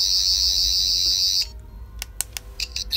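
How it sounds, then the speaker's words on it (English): Thirteenth Doctor sonic screwdriver toy, button pressed once: a loud steady high-pitched electronic whine that holds for about a second and a half, then cuts off, followed by a few short bright chirps and pulses. "This Sonic has three sound effects."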